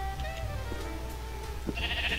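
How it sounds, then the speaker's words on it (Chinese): Sheep bleating in a video game, a few short, fairly faint bleats over a steady low background hum. "然后树林区有很多羊咩咩，你看很多羊"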